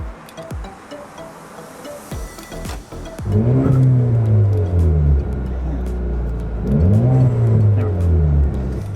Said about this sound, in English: So we'll do a couple sitting here and revving